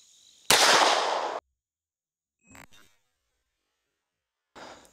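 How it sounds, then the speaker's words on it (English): .22 caliber gunshot fired at an M1 helmet outdoors: one loud, sharp crack with a short ringing tail, followed by a couple of faint, brief knocks later. "First caliber we're gonna shoot at is gonna be 22"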